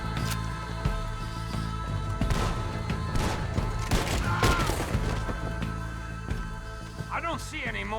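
A fusillade of gunshots in Red Dead Redemption 2 cracks in irregular bursts amid a busy battle mix, with several voices shouting and talking over the shooting.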